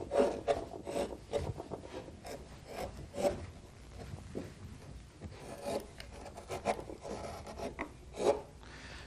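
A 25 millimetre number 5 wood-carving gouge rounds off the corners of a wooden puffin decoy, making repeated close scraping, rasping cuts in an irregular rhythm with short pauses between strokes.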